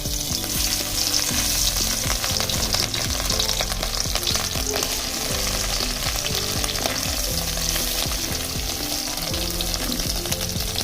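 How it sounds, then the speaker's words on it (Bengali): Food frying in a pan gives a loud, continuous sizzle and crackle for the whole stretch, with a low steady hum underneath. "এই দেখুন বন্ধুরা আমি এভাবে ভেজে নিচ্ছি।"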